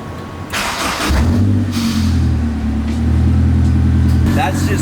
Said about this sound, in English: how loud that exhaust is. It drones so much